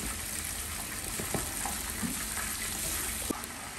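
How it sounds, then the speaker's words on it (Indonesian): Shallots and garlic are sautéed in a pan as the base for a sweet and sour sauce, giving a steady, moderate sizzle with occasional soft clinks and stirring scrapes, and no talking. "Ini kita tumis bawang merah dan bawang putih."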